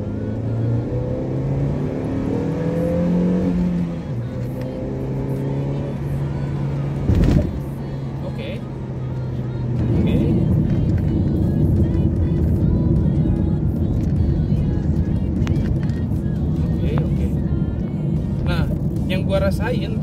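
A 2020 Honda Mobilio S accelerating in second gear, heard from inside the cabin: the engine drones and climbs in pitch, eases off, then pulls hard again with a steady roar, while a person talks over it.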